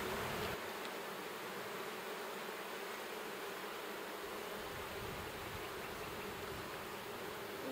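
Honeybees in a very full, calm hive give off a dense, steady buzzing drone that holds evenly throughout, close and unbroken, with no voices.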